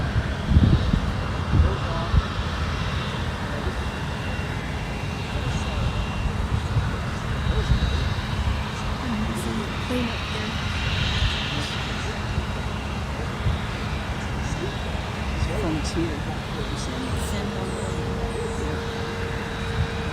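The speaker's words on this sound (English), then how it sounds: "JetBlue 101 moving a bit towards the runway." A JetBlue Airbus A320 taxies toward the runway at Fort Lauderdale airport, a steady low jet engine rumble and hum with light background noise that continues evenly throughout.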